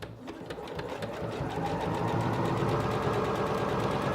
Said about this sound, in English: This machine starts at the bottom and stitches up for the buttonhole